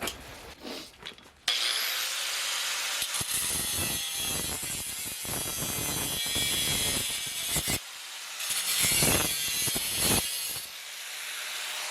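A power tool, likely a grinder with a cutting disc, slices through the inner rocker sheet metal of a Mercedes W109/108, giving a loud, sustained, gritty cutting noise with brief dips, close up and alone.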